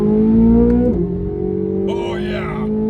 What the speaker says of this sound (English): Listen to the downshift.